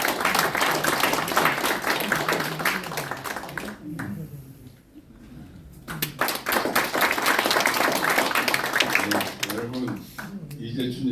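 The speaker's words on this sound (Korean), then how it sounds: "뜨거운 박수 부탁합니다." Warm audience applause at a party press conference, a dense crowd of clapping hands that briefly thins midway, then swells again with rhythmic clapping, mixed with voices and a few thumps.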